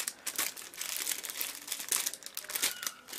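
Plastic bag wrapping crinkles and rustles as a package of iPhone 4 and 4S cases is unwrapped, a steady close-up stream of crisp, crackling handling noise.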